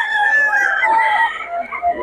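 Loud, close rooster crow drawn out over a couple of seconds at a chicken market, with other fowl calling in the background.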